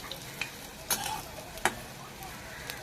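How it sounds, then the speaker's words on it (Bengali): Semolina pakoras fry in hot oil with a soft, steady sizzle, broken by a few sharp clicks and scrapes as they are turned with a spatula. "এইভাবে আমি উল্টে পাল্টে লাল লাল করে ভেজে নিচ্ছি বাকিগুলো"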